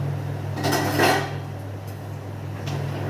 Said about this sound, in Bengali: এই ঢাকা চাপা দিয়ে রেখে দিচ্ছি